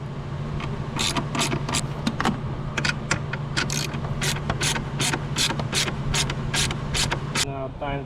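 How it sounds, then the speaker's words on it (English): A ratchet tightens a battery hold-down bolt on a 2012 Mercedes GLK 350, giving quick bursts of sharp clicks in an uneven rhythm over a steady low hum. "And now I'm gonna put this bolt here, one bolt, and then put the other bolt on the other side."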